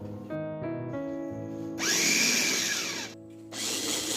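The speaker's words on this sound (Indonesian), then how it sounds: "kemudian haluskan menggunakan chopper atau bisa juga menggunakan blender." An electric chopper whirs loudly as it purees peeled cooked tomatoes for a bolognese sauce, a steady motor drone that pauses briefly and then starts again, close up with no voices.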